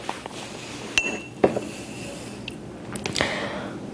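Glass clinks a few times: sharp, bright taps and a ringing chink spaced over a few seconds, close by against a quiet room background.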